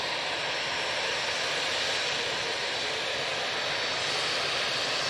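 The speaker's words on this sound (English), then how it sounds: "We've got a very loud EasyJet coming on in front of us" A loud EasyJet Airbus A320-200 approaches Manchester Airport, its jet engines making a steady, broad roar that holds level for several seconds with no voices over it.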